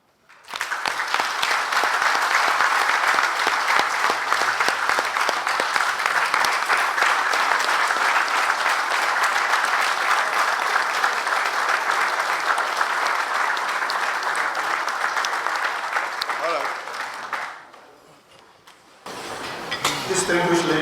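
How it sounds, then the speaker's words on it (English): Sustained applause from a large audience at an army change-of-command ceremony, loud and steady for about seventeen seconds before it briefly fades, then swells again. "grant all members that are disengaging from service another rounding applause for their commitment and service to our fatherland."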